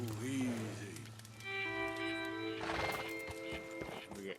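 Video game horse from Red Dead Redemption 2, whinnying loudly up close, then clip-clopping hooves. The game's music and effects run underneath, and someone speaks briefly.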